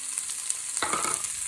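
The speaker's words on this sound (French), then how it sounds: "On met l'ail et les oignons, hop, hop, hop." Garlic and onions frying in hot oil in a pan for Tunisian-style green beans: a steady, close sizzle that surges into a louder, crackling hiss partway through as the food hits the oil.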